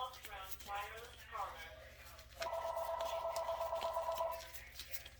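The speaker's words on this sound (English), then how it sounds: "The phone's ringing. Can't you hear it?" A telephone rings in a home kitchen, an electronic trilling burst of warbling tones after some other brief beeps, heard faintly with a low steady hum beneath.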